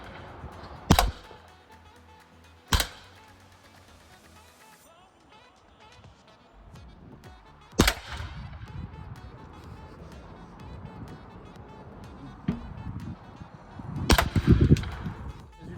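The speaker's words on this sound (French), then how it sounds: "On va faire une salve de 6 billes. On va tirer dans une bouteille d'eau d'un litre et demi." An air gun fires a volley of six pellets into a full 1.5-litre plastic water bottle, giving sharp separate cracks spaced seconds apart, with rustling and handling noise between shots.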